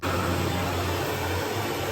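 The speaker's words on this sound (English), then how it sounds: "I'm getting the Hoover." A Hoover vacuum cleaner running indoors gives a steady, loud motor whine and airflow rush. It starts abruptly and holds an even drone with a low hum beneath, with no voices.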